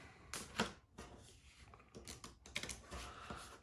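Quiet, crisp riffling bursts of playing cards being shuffled by hand on a tabletop for a pro wrestling promoter card game, coming in several short rapid flurries separated by brief pauses.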